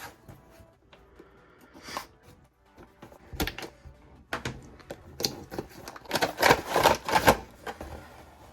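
Cardboard and plastic packaging of a 2021 green She-Hulk Marvel Legends figure being handled and opened, with scattered taps and rustles building into a dense flurry of crinkling and tearing near the end, close and fairly loud, with no talking.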